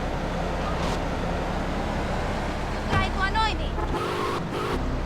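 A car engine in the video game GTA Vice City gives a constant roaring drone under loud voices talking throughout.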